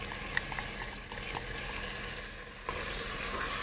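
Chops sizzle hard in a hot pan as a salt and pepper mixture goes in, a steady close frying hiss with small crackles and a brief clatter near the end.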